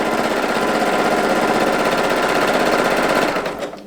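A sewing machine runs at high speed while quilting, a loud, close, rapid mechanical hammering of the needle that holds steady for over three seconds, then winds down and stops.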